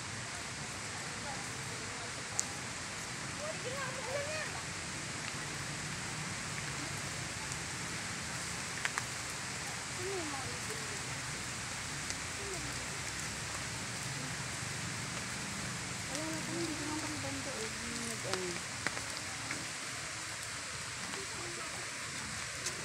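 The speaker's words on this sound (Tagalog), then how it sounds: "Ayan na po ang blessing na ulan." Steady rain falls outdoors at a scenic spot, a soft continuous hiss of drops with faint scattered voices and a few brief knocks mixed underneath.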